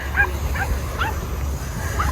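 A dog near a public fountain in Lisbon gives several short yips and whimpers spread across a couple of seconds, fairly close, over a low steady rumble of outdoor background noise.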